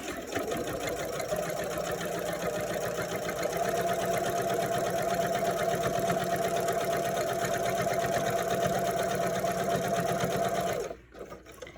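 A sewing machine stitches in a fast, steady whirring rhythm close by for about eleven seconds, then stops abruptly.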